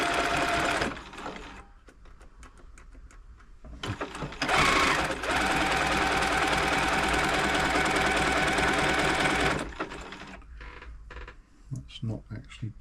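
Elna Club Computer 500 sewing machine running a back-and-forth stretch stitch, a loud steady mechanical whir in long bursts with short pauses and clicks between runs.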